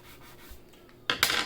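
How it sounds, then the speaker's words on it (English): A finger rubs wet paint across paper to blend red into a tomato painting, giving a couple of short, close, dry rubbing strokes near the end after a quiet stretch. "I'm rubbing it with my finger to blend it a little."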